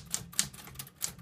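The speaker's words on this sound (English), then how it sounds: "The Scholes & Gliddon Typewriter is for you." Keys strike on a Scholes & Gliddon typewriter in quick, uneven clacks, several crisp taps close and fairly quiet, with a soft mechanical undertone between strokes.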